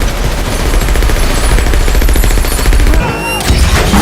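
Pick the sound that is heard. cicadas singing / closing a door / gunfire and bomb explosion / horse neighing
gunfire and bomb explosion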